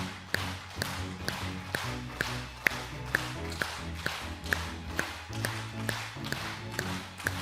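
Palm-to-palm clapping as a health exercise, a steady even rhythm of sharp claps roughly twice per second, close and distinct over a low musical backing, with no voice.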